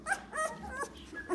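A puppy about a week and a half old whimpers in a series of short, high, whiny cries, close by and fairly soft, with no talk.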